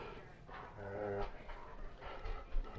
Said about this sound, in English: The dog's growling at me again.